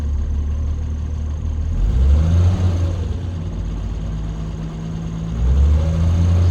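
A car engine idling steadily after a cold start, settling into a smooth, even low rumble near 1,000 rpm, loud and close with slight swells in level and no talk.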